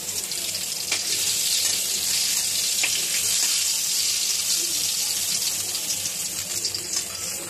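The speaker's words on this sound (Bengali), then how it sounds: "কড়াইয়ের মধ্যে আমি তেল দিয়ে দিয়েছি, সাদা তেল। আর এবার আমি বেগুনগুলো দিয়ে দেব।" Eggplant pieces frying in white oil in a wok give off a steady, close, fairly loud hiss and crackle that runs without a break, with no talk over it.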